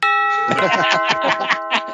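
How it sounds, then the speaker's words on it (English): An electronic doorbell chime rings out clearly, a short melodic run of bright tones with a lingering ring, close and loud. "Insert doorbell sound effect."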